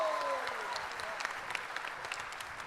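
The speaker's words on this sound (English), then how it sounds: "Please give a big round of applause." Audience applause at a corporate management event in India, a soft, fairly faint patter of clapping from a moderate crowd, continuous over a few seconds with a few louder individual claps.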